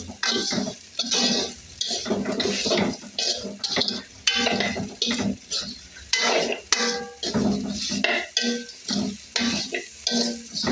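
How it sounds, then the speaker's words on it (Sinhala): Egg kottu roti pieces are stirred and tossed in a pan, with repeated rhythmic metal scrapes and clatters over a soft sizzle, close and loud. "හොඳින් කවලම් කරගන්න."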